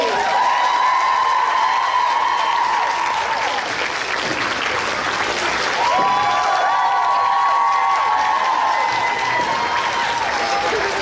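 Audience applause welcoming actor Bob Morley onto the stage at a Raleigh SuperCon 2018 panel: sustained, dense clapping from a large crowd with some cheering, and tonal music running over it.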